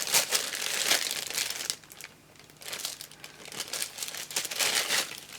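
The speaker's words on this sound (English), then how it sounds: "I need my foam tape. So let me just grab some out." Foam tape pulled out of its plastic packaging during scrapbook card making, heard as close, crackly bursts of crinkling in two main spells separated by a brief quieter pause, with no speech.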